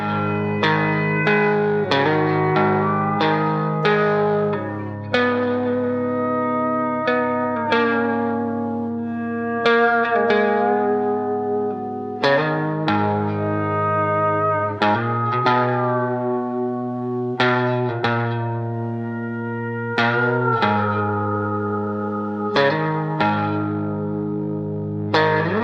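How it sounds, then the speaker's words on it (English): Pedal steel guitar glides and swells over layered electric guitars, sustained chords ringing with sliding notes and reverb, loud and continuous throughout. "Let's have a listen to how the pedal steel works in context, with the electric guitars"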